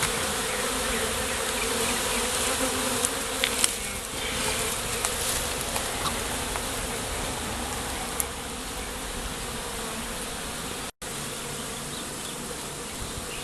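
Bees swarm around the site of a removed hive, a dense, continuous buzzing from many insects close by that holds steady throughout with no talk.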